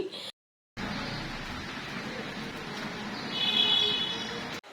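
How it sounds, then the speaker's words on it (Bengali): Heavy rain falls outside on a rainy morning, a steady broadband hiss that briefly drops out near the start and then swells slightly louder toward the end. "বাইরে খুবই বৃষ্টি হচ্ছে"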